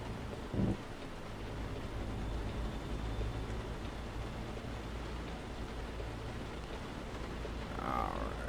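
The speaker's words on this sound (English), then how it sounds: "Storm coming in and raining." Steady heavy rain from a storm in American Truck Simulator hisses without a break, with a low thunder rumble in the background. No voices are heard over it.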